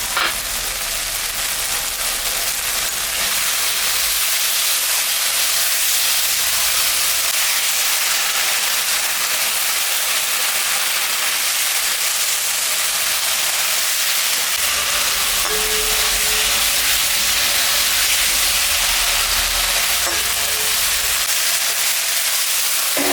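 Spices fry in a pot for a fish curry, giving a loud, steady hiss and sizzle that continues unbroken with no talk.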